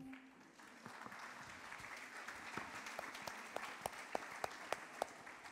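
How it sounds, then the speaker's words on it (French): Audience applause at a theatre-troupe reading during a writing-prize ceremony, a steady wash of clapping from a sizeable crowd with a few sharper, closer claps standing out toward the end. "Applaudissements, Samira et Raymond."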